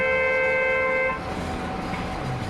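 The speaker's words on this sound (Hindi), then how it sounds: "ये गाड़ी वाला यही हॉर्न मार के रह गया।" A vehicle horn gives a sustained tonal honk for about a second, then cuts off and leaves background street noise.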